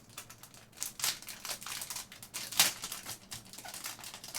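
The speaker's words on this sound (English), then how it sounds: "so let me slide it out of this plastic bag." An item slid out of a plastic bag, a close, quiet run of crinkling and rustling with a few sharper crackles along the way.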